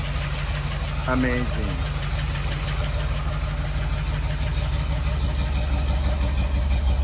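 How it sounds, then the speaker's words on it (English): A 1979 Jeep CJ-5's 304 V8 with a Holley 4-barrel carburetor idles steadily and loudly up close, a low continuous rumble running throughout while a voice briefly speaks over it. "Listen to that 304 V8. Got a 4-barrel on it, Holley 4-barrel."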